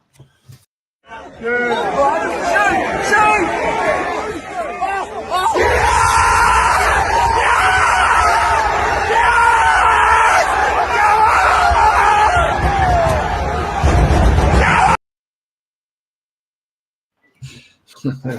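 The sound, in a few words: football fans shouting at a match, goal scored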